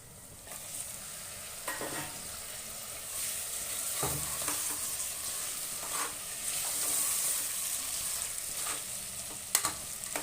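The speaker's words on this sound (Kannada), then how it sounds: "ಟೊಮೊಟೊ ಸೇರಿಸ್ಕೊಂಡು ಒಂಚೂರು ಫ್ರೈ ಮಾಡ್ಕೊಳ್ಳೋಣ ವೀಕ್ಷಕರೇ" Tomatoes fry in oil in a pan for vegetable pulao, a steady close sizzle broken by occasional scraping stirs and light utensil taps.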